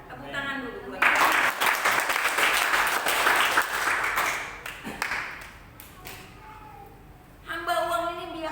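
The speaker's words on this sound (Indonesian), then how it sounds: "Tepuk tangan dulu buat kita." A church congregation breaks into applause during a sermon, a loud, dense burst of many hands clapping that swells and holds for several seconds, then thins out before the preacher's voice returns.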